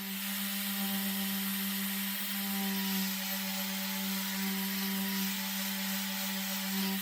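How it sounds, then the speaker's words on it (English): Steady abrasive rubbing of 120 grit sandpaper on the edge of a worn Gunn & Moore cricket bat during repair, faint and continuous with a constant hum behind it. "just finishing off with that 120 grit sandpaper"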